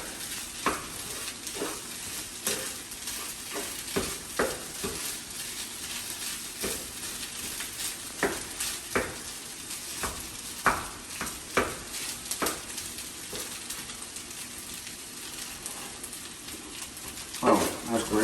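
Chicken fried rice cooks in a hot pan with a steady broadband sizzle, broken by frequent sharp scrapes and clacks from stirring, a louder burst of stirring near the end.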